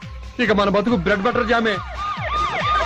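A police siren wails in rising and falling sweeps, fairly close and loud, while someone speaks over it in a Telugu film scene.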